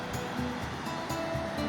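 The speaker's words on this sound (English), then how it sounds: "The water is flowing from here, and this is actually the Soča River" Rushing river water of the Soča River in Slovenia, heard from a suspension bridge, forms a steady, broad wash of flow with no clear breaks, fairly even and moderately loud.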